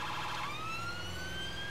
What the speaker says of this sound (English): Change the siren tones as it goes to green.